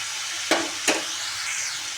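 Onion garlic masala and red chilli powder sautéing in a pan for a Shravani ghevda bean sabzi, a steady soft sizzle with two sharp stirring scrapes close by.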